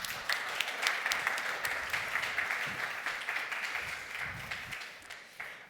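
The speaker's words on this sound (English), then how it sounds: "Please give them a round of applause." Conference audience in Berlin applauds panel speakers at a climate change event, a moderate, continuous patter of many hands clapping that gradually fades away.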